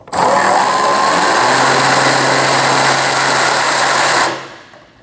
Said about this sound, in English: So you're going to use the 10mm socket and remove that nut as well.